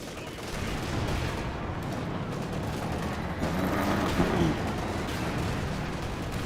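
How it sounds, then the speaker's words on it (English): A rocket grenade fired during a Company of Heroes 2 battle, amid a dense, continuous wash of gunfire and explosions with a slightly louder burst in the middle. "Rocket grenade fired"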